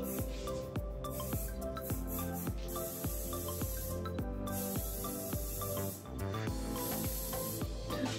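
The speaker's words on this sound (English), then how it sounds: "I'm going to use the shine spray again." Hissing bursts of aerosol shine spray onto hair over steady rhythmic background music.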